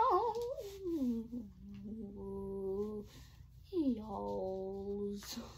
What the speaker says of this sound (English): Yeah, my sister's cat.